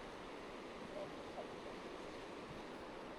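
Flowing water of the Chattooga River rushes around someone standing mid-river, a steady broadband wash with some wind noise and no clear voices.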